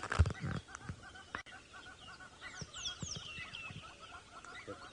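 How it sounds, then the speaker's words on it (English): A Jacobin cuckoo calls in the distance from a thicket: a run of high, whistled notes over outdoor background noise, with a brief louder thump near the start. "I can hear a cuckoo calling behind us somewhere."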